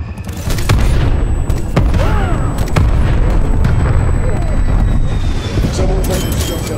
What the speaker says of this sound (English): War machine going off.